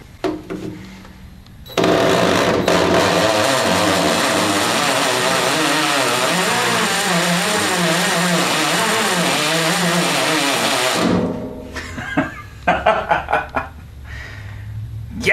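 A DeWalt hammer drill drilling masonry gives a loud, steady roar for about nine seconds with a buzzing hammering texture, then cuts off, followed by clattering and scraping.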